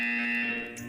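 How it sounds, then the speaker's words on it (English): A short, loud electronic buzzer tone sounds in the Portal 2 video game, a steady harsh drone lasting under a second and tapering slightly at the end. "You will hear a buzzer."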